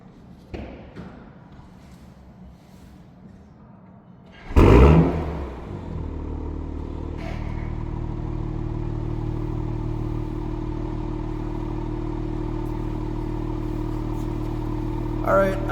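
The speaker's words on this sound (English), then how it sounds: "I've had it warming up in here with the door open, so let's hear that exhaust a little." A 2026 BMW M340i xDrive, warmed up in a garage with the door open, fires up with a loud burst of revving exhaust, then settles into a steady deep idle rumble close by.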